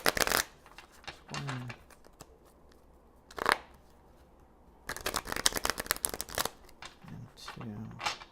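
A tarot card deck is shuffled in quick riffling bursts, loud and close, with a long run in the middle and a shorter one near the end, broken by a person speaking.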